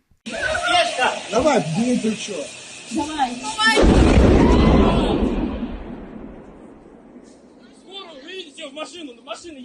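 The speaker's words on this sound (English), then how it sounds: "You can hear the explosions." A heavy, deep boom from a drone strike in Moscow bursts out and rumbles away over a few seconds, with excited voices talking and laughing before and after it.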